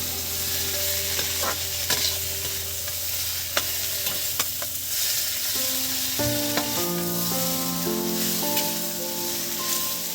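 Bitter gourd and long-cut potato sticks frying in a pan, a continuous close sizzle with scattered stirring clicks and scrapes, a fresh burst of crackling partway through as the potatoes go in, no voices.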